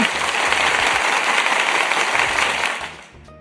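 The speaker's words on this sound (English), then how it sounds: "give yourselves a round of applause for making it through." An audience applauds, a thick continuous wash of many hands clapping at full strength that fades away in the last half second.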